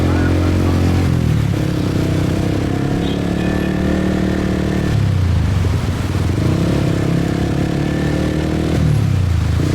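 Dense motorbike traffic fills a Saigon street in District 11, a loud steady blend of many small engines droning and revving close by, with clattering road noise and no clear pauses.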